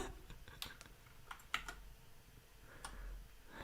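A cat presses keys on a computer keyboard, producing faint, irregular clicks and taps scattered over a quiet background with no speech.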